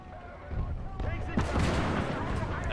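Heavy artillery cannon fire in a WWII video game, with sudden booming blasts followed by a continuous roar of distant gunfire and rumbling that stays loud to the end.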